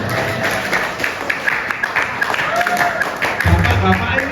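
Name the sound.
audience applause for the mothers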